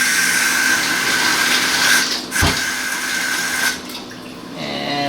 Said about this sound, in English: So I'm gonna get a bowl of water.